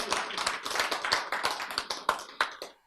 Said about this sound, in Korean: 박수 쳐야 돼. 박수.